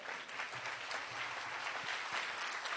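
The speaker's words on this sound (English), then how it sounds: "Let's hear another round of applause for Brett Denon." An audience applauds at a brunch speech event, a steady, dense clapping that fills the room evenly from start to finish at moderate distance.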